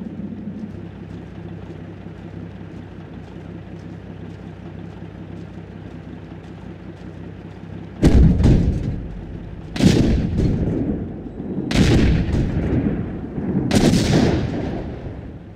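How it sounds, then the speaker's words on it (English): Artillery fire in the WWII strategy game Sudden Strike 2 at the Battle of Anzio: a low ambient rumble gives way to four loud, heavy booms spaced about two seconds apart, each trailing off in a rolling echo. "Artillery ready. Fire."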